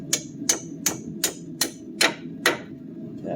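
Seven sharp, evenly spaced metallic taps ring out as a ball joint is hammered into a control arm on a 2015 Jeep Compass. The taps are fairly faint and close, with a low background hum.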